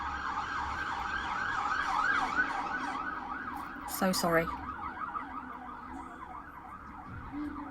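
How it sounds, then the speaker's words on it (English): A wailing siren rises and falls steadily, heard from outside through an open window, with a short spoken phrase in the middle and street traffic underneath. "you're going to get loads of sirens any second."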